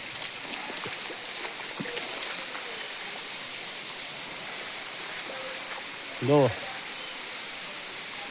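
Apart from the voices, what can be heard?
waterfall in Maharashtra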